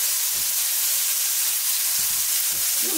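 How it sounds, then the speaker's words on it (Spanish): Mushrooms sauté in a pan with onion sofrito, giving a loud, even sizzle that hisses without a break, with a few faint low knocks of the pan. "Vamos a saltear los champiñones aquí y ahora se los agregamos a la cebolla"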